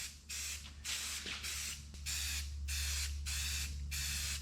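An aerosol spray paint can with a poorly spraying nozzle hisses in a run of repeated close, loud bursts, each lasting about half a second with brief gaps between.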